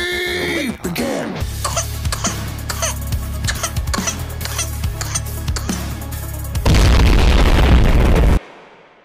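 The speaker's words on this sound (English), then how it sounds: "Hydrogen bomb! Versus coughing baby!" A hydrogen bomb explosion versus coughing baby meme: a voice and coughs, then a rapid string of sharp pops and bangs, ending in a loud, sustained roaring blast that cuts off suddenly.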